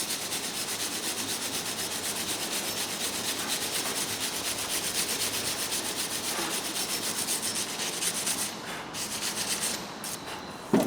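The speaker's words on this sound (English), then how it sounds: "Bit of wire brushing." A wire brush scrubs the corroded hub face of a Peugeot 208 where the wheel seats, giving a steady, close, abrasive rasping that runs continuously with no talking.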